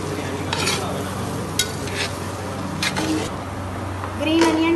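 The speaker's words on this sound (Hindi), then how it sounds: "अब इसमें हम वेजिटेबल्स मिक्स करेंगे और चावलों को अच्छे तरीके से" Steamed rice tossed and stir-mixed with vegetables in a pan for egg fried rice, a constant sizzle broken by repeated scraping strokes of a spatula, with a voice briefly audible near the end.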